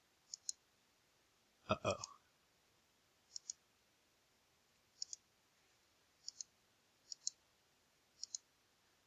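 Computer mouse clicking to select holes in CAD software, crisp clicks arriving mostly in quick pairs every second or so, close and quiet, with one brief spoken exclamation early on.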